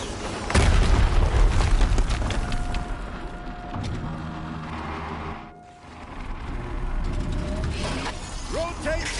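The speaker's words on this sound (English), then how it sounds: "Another explosion." A deep explosion booms in Horizon Zero Dawn on PS5, followed by rumbling, clanking machinery and game effects that briefly drop out before resuming at a loud level.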